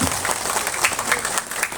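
Crowd at an Islamic sermon marking Indonesian Independence Day claps in a lively, uneven burst of applause with sharp individual claps standing out, filling the whole moment.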